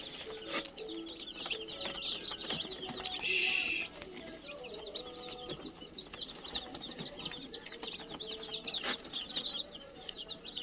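Brooding village chicks peck at feed while peeping constantly, a dense chorus of high chirps with soft pecking taps and rustling, fairly faint and close, with no talking.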